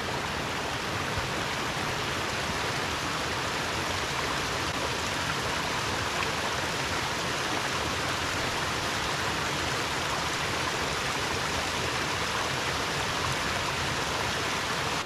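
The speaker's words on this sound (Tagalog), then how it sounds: "narating na natin ang falls" Ayahiro Falls on Mt. Mitake pours in a steady, dense broadband rush of water, loud and unbroken throughout with no voices over it.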